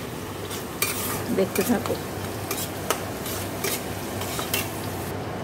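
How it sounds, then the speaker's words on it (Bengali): Onions frying with dried red chillies in a pan before chicken goes in, a continuous sizzle broken by repeated spatula scrapes and clinks against the pan, with someone briefly speaking over it. "শুকনো লঙ্কা ফোড়ন দিয়ে পেঁয়াজ ভাজছি"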